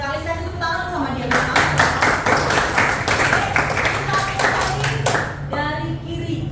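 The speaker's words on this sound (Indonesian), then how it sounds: "Saya tepuk tangan sama dia." Classmates and a teacher clap for a student in an Indonesian classroom: brisk, rhythmic hand claps that build after a second of talk, continue for about four seconds, then stop as speech resumes.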